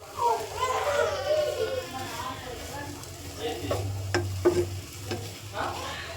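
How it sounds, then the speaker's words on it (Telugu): Grated carrot and beetroot fried in ghee for halwa, a soft sizzle under repeated stirring and scraping of a spoon against the pan, with someone speaking over it and a few sharp clicks toward the end. "ఇలా కలుపుతూ వేయించుకోవాలండి."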